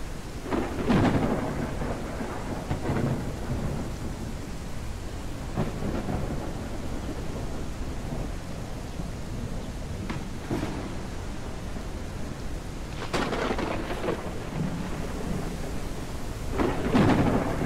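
Steady heavy rain hisses throughout a thunderstorm in the survival game Humanitz, with several loud thunder cracks and rumbles spaced across the stretch and no speech.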